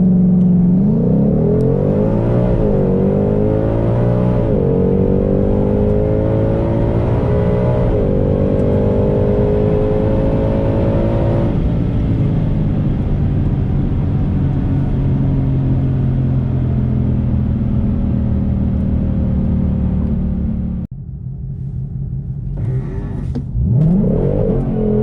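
A Ford Shelby GT500 at Lebanon Valley Dragway launches on 24 psi tires with launch control at 2300 RPM, its engine roaring loud and close as it climbs through rising gear pulls for about twenty seconds before cutting off abruptly.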